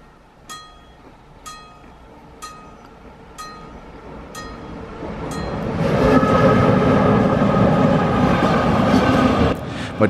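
A train rumbles past on the Black Forest Railway in Germany, its noise swelling to a broad, loud roar midway through, with sharp metallic clicks and squeals ringing out before it arrives.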